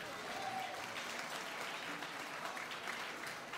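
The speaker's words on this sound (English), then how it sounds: "how about a big round of applause for Dean Mora and his orchestra?" Crowd at a dance club applauding a live orchestra, dense continuous clapping at a steady moderate level, somewhat distant and roomy, lasting throughout with no clear talk over it.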